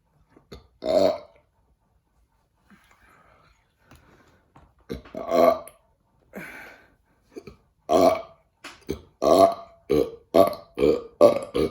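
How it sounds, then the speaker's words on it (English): Loud, close burps after a late-night snack that leaves a fiery taste, about a dozen in all: a few spaced out at first, then a quick, rhythmic run of belches with no talking. "when I burp, tastes fiery"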